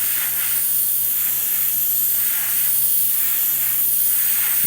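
Airbrush spraying Vallejo Metal Color acrylic paint at about 20 psi, a steady continuous hiss with gentle pulsing and a low hum underneath, no talking.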